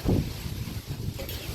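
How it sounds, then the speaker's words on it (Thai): Outdoor wind gusts against the microphone in a steady, rumbling roar, strongest at the start and then buffeting unevenly throughout. "ลม"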